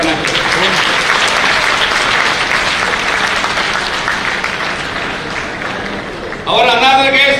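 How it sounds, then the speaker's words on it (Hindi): Loud, steady applause from a large audience at an international Buddhist conference in Nagpur, welcoming a guest; dense clapping sustains for several seconds before a voice breaks in over it near the end. "सभी लोगों ने यहाँ पर उनका तालियां बजा के यहाँ पर उनका स्वागत करना चाहिए"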